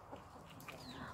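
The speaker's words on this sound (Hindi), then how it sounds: "ये देखिए, यहाँ आपको हेंस दिखेगी, मुर्गियाँ" Hens clucking in a farmyard at a hill station in Sagada, a short burst of soft, fairly faint clucks over background noise, with no talking.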